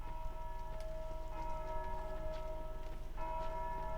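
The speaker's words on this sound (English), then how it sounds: "If you don't know where someone's ringing the bell from" A bell tolls repeatedly in the Dark Souls 2 video game, its sustained ringing strikes sounding at a moderate distance over a quiet, steady ambience with no voices.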